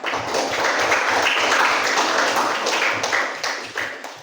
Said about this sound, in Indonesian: berikan tepuk tangan dulu untuk teman-temannya yang sudah maju ke depan mempresentasikan hasil kerja kelompoknya